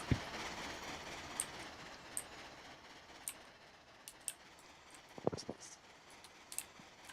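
Train engines run hard in a railroad video game, a steady broad rumble broken by sharp intermittent clicks and clanks at irregular intervals.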